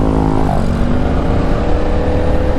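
A CFMOTO CLC450 motorcycle engine revs loudly and close up, its pitch sweeping upward then holding a strong steady drone, with no talking over it.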